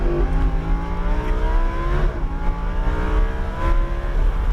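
A Lamborghini Huracan LP 610-4 accelerates on a racetrack circuit, its engine note climbing steadily in pitch, loud and close, dipping briefly as revs shift before rising again.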